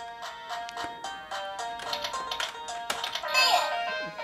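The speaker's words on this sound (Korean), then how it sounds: "키보드가 약간 장력이 세네요. 누르기가 쉽지가 않습니다." Stiff keys on a Barbie toy laptop are pressed in a quick, uneven run of close, plastic clicks and taps, with a few louder presses toward the end.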